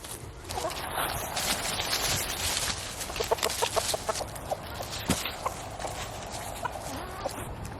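Chickens clucking near someone feeding them pumpkin, a run of close, repeated short clucks over a busy farmyard background, with a person speaking briefly.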